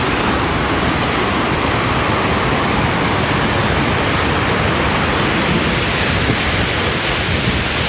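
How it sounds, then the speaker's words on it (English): Wolf Creek Falls in the New River Gorge, West Virginia, gives a dense, constant rush of falling water. The broad roar is steady and close, with no voices over it. "It's called Wolf Creek Falls."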